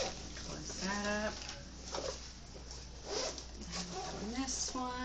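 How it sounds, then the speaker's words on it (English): A zipper on a storage case is pulled closed in a few quick ripping strokes at close range, with soft handling noise in between. "Okay, now here's the zipper."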